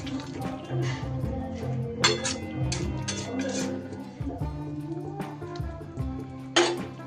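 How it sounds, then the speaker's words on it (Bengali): Fried onion and capsicum being mixed into a pan, soft clinks and scrapes of a spoon against the metal under a low hum, with a few sharper taps, close and quiet. "পেঁয়াজ আর ক্যাপসিকাম দিয়ে সুন্দর করে মিশিয়ে দেব।"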